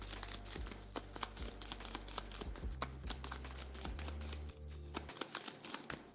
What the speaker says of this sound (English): Let's shuffle the bot cards.